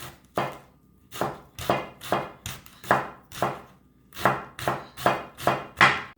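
A knife chops leeks steadily on a cutting board, a dozen or so crisp, evenly spaced strokes, close and clear with no talking.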